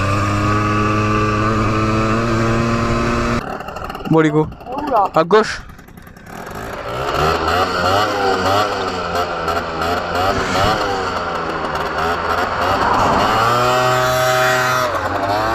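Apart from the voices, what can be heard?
scooter riding at top speed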